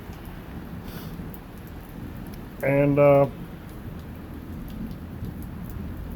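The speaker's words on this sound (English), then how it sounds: "it's got some lightning going on and some thundering" A steady wash of rain from a thunderstorm fills the background, with a faint rumble of thunder mixed in and a brief voice cutting in partway through.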